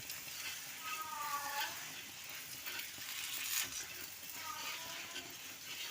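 A potato cheese paratha frying on a hot griddle, a steady faint sizzle with soft hiss and scraping as it is turned, under quiet talk in the background.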